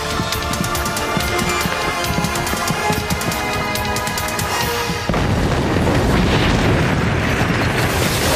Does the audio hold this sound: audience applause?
no